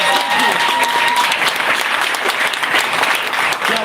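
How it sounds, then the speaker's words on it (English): An audience at an evening town hall meeting claps in sustained, dense applause that fills the room for a few seconds. "give me a round of applause for Jose Ramirez and Stephanie."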